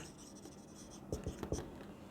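Pen strokes scratch on paper during handwritten note-taking, a few quick, soft marks clustered together near the end of a quiet passage.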